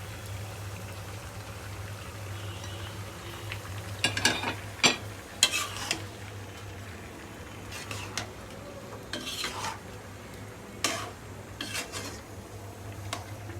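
Jackfruit pieces and boiled jackfruit seeds cooking in a pan for a jackfruit curry: quiet frying under a steady low hum, with scattered clinks and scrapes of a utensil stirring against the pan, close and faint, no talking.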